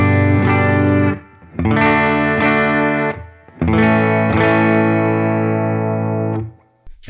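Three sustained distorted guitar chords through a pedalboard with polarity reverse off, each ringing for a second or more before cutting off, loud and heavily processed with effects.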